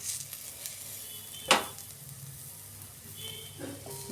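Yogurt-marinated chicken kebabs frying in a pan at home, giving a soft, steady sizzle with a sharp crackle partway through and light clatter near the end.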